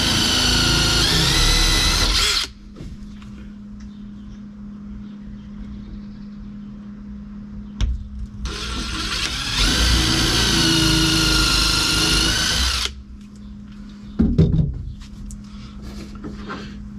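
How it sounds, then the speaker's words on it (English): A power drill pre-drills plywood in two long steady bursts of several seconds each, loud and close, separated by a quieter lull with a low engine-like hum. "so I'm going to pre-drill that"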